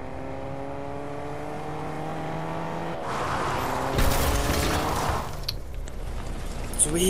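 A car engine in the Fortnite video game drones steadily for a few seconds, then a louder burst of driving noise with rushing and revving takes over, heard up close in game audio.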